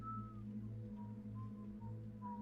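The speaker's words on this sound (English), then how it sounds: "Are you really whistling?" Whistling in Sherlock Holmes: Crimes and Punishments, a faint thin tune of short notes over a low background hum.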